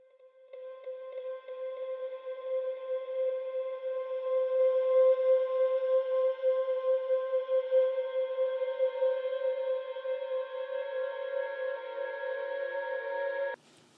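A dark piano chord passed through a Portal Chordal Clouds effect and a narrow band-pass EQ sustains as a thin, shimmering tonal drone that swells and holds, then cuts off abruptly near the end.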